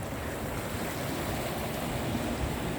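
Sea waves wash continuously along a Moroccan coastline, a broad, steady roar of surf mixed with wind buffeting the microphone, with no voices.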